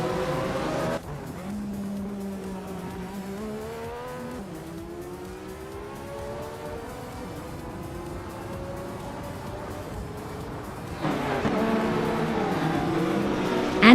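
Race cars engines droning and shifting pitch in a racing video game, a steady mid-level whine with gear changes, rising louder toward the end as cars close in.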